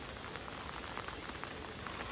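Heavy rain falls steadily, a dense, even hiss of drops drumming on surfaces with no voices or other sounds.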